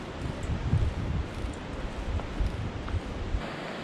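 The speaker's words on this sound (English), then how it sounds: "I hear some rushing water." Rushing water of the Linville River in a gorge, a steady broadband wash heard from a short distance, with faint rustling over it and no voices.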